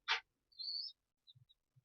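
Pigeons kept in a loft, heard as a quick bright chirp then a short warbling call, followed by a few soft low coos and faint flutters, close and quiet with no talk.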